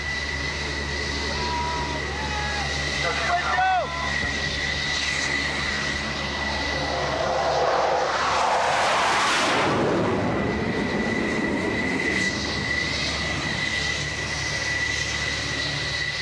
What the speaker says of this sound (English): The plane is waved off